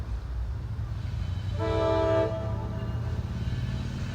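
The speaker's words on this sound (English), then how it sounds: "And here comes the Norfolk Southern train again." A Norfolk Southern freight train rumbles steadily nearby while its horn sounds one loud blast of under a second. No voices are heard.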